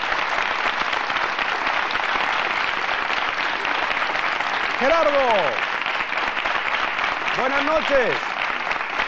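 A studio audience on a 1990 Andalusian television program applauds steadily, loud and continuous throughout, while a presenter's voice speaks over the clapping.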